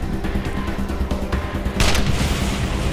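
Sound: gunshot from the Wasteland 2 video game

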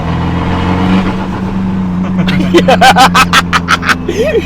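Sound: car engine revving

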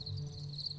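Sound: chirping of thousands of domestic crickets

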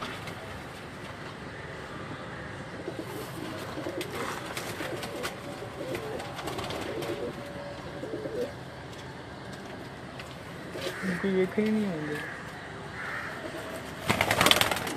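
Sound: pigeons cooing, including Sialkoti pigeons

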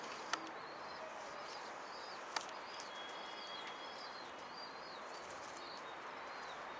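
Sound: birds in a basket

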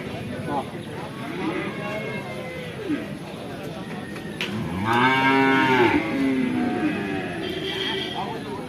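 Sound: buffalo mooing at cattle market

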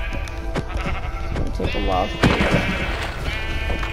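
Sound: sheep bleating in Minecraft video game

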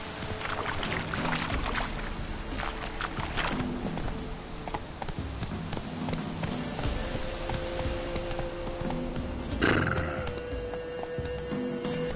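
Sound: horse Roach neighing and hooves, from video game Witcher 3

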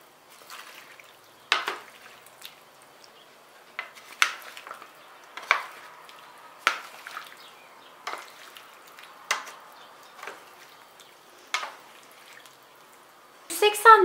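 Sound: stirring vegetable dish with potatoes and tomatoes

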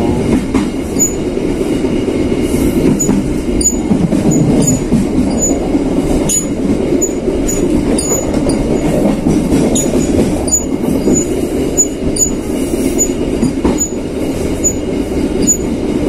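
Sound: passenger train running on rails

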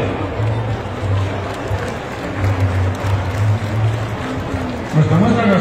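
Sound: applause for the cooks at a food contest

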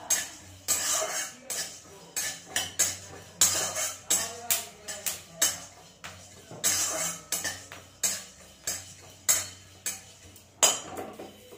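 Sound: stirring in a dry pan

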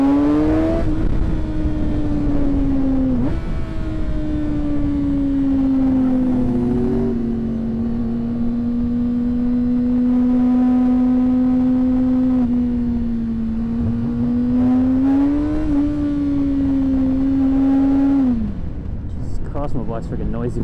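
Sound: motorcycle engines revving on a group ride

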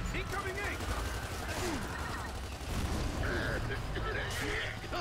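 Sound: gunfire in the video game Gears of War 2

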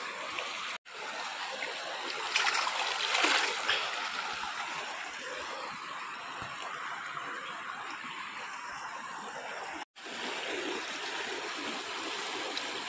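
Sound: water splashing while washing caught fish

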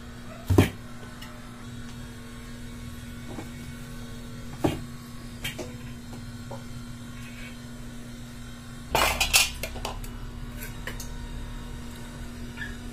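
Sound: washing large cooking pots and dishes

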